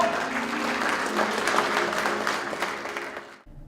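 An audience at a company winter workshop applauds to welcome a new member, the business's representative, with a brief burst of steady clapping that cuts off abruptly near the end.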